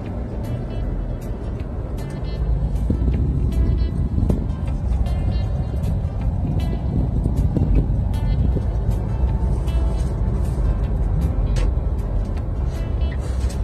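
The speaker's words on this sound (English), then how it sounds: "Traffic in Jamaica." Road traffic in Jamaica, a continuous close roar of passing cars and heavier vehicles with a brief air-brake hiss, loud and dense throughout.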